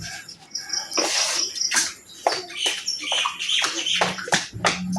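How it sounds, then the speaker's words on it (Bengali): Chickens cluck and squawk near a chicken coop, with repeated sharp calls and chatter in an uneven rhythm, fairly close and moderately loud. "এখন মুরগির ঘরের দিকে যাচ্ছি বাচ্চাগুলোকে দেখতে"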